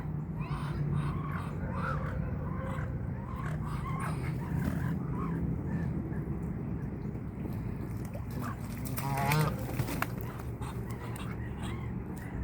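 Ducks and geese squabbling over feed at a pond, with a jumble of quacks, honks and harsh calls close by over a busy background.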